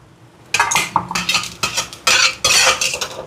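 Sago and vermicelli tipped into a pot of boiling milk for payasam, with a spoon scraping and clinking against the metal pot in a run of close, loud, irregular stirring strokes.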